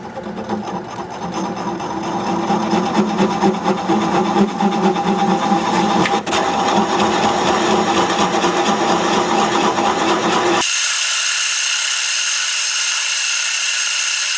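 Boring a hole 2.5 inches wide and 3.5 inches deep into a wood-turning blank on a lathe: a loud continuous whirring, grinding drone that shifts abruptly to a thinner, steadier high whine near the end.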